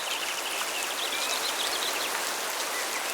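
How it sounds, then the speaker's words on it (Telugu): Heavy rain pours down steadily, a dense even hiss of drops with no breaks, loud and close throughout with no voices. "అకస్మాత్తుగా భారీ వర్షం మొదలవుతుంది."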